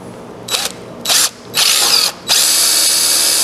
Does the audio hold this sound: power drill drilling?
yes